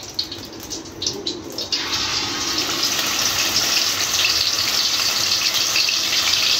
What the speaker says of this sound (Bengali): এখন জাস্ট হলো তেলের ভিতরে দিয়ে দিবে। তো দাও দেখি, তেল গরম হয়েছে না?